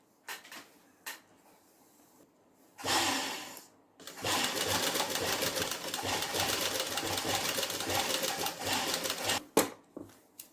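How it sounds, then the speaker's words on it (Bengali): A sewing machine stitches a padded blouse, giving a close, steady mechanical whir that runs for several seconds after a short earlier burst, with light handling clicks around it. "ঠিক এই গা বরাবর এরকম করে সেলাই করবো এর ওপর দিয়ে"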